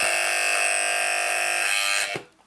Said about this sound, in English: It has an alarm.